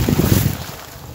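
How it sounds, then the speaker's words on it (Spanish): Water gushes under pressure from a 2-inch hose fed by a 3-horsepower, 220 V three-phase solar-powered pump, a loud, continuous close-up roar with a windy, rushing texture. "El tubo de la manguera de 2 pulgadas sale a presión. Es mucha, mucha agua."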